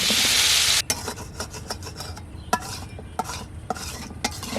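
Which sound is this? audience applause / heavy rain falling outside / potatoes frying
potatoes frying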